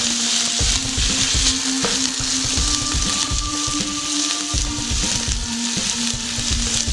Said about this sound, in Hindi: एक 2 मिनट अच्छे से चिकन को इसमें फ्राई करेंगे।